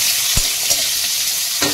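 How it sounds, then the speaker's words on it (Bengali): Potatoes frying in hot oil with black cumin seeds give a steady, close sizzling hiss, broken by a few brief scrapes of stirring. "আলুটা ভাজা হয়ে যাক, আলুটা ভাজা হলে"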